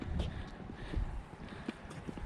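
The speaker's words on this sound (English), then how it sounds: "there are some horses walking towards us rather determinedly" Several horses walk toward the listener across a field in the open, their hooves thudding softly at a distance under steady wind and low background noise.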